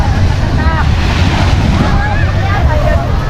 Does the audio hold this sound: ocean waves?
yes